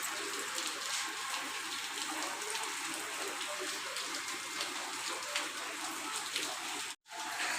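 Steady rain falls outdoors on an evening, a dense, even hiss that runs unbroken and fairly loud for several seconds before cutting out briefly near the end.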